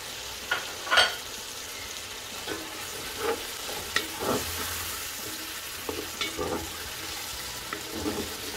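Carrots going into a hot pot of African-style turkey wings and potatoes, with scattered scraping stir strokes and soft sizzling frying underneath, moderately close and steady across the stretch, no talking.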